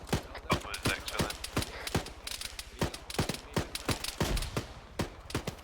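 Rapid bursts of gunfire in Arma 3, sharp cracks scattered irregularly with clustered volleys, fairly loud over a busy background.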